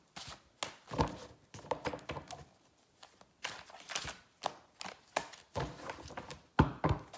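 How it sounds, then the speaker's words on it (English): Tarot cards are shuffled by hand in a quiet room, with repeated soft riffling bursts and taps at an uneven rhythm, close and fairly faint. "I feel like I need to shuffle a little more."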